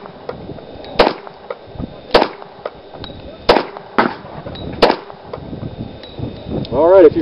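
Five sharp pistol shots ring out at an outdoor concealed handgun qualification range, spaced about a second apart, each a loud crack with a short echo, and a brief faint voice follows at the end.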